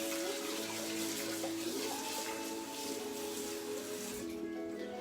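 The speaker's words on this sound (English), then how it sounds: "So I am going to rinse these in cold water just so that they're not way too hot to pick up." Cold tap water runs steadily into a sink over boiled eggs being rinsed, a continuous close hiss and splash with a faint shifting tone as the flow hits them.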